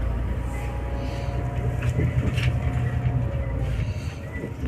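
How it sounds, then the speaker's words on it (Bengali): A Romanian passenger train rolls from Arad toward Timisoara, a continuous low rumble of wheels and carriage noise with faint rattles and clunks heard from inside, with no talking. "আমাদের ট্রেন ছেড়ে দিয়েছে"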